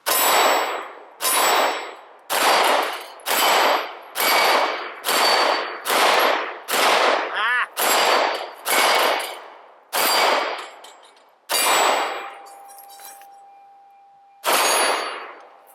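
HK VP9 handgun firing at steel targets outdoors: a steady string of about fourteen loud shots, each followed by a ringing metallic clang, with a longer pause near the end before the last shot.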